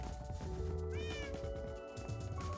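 Cats meow in a sandbox survival video game, a couple of rising, wavering meows standing out over a steady bed of background game music and ambient sound.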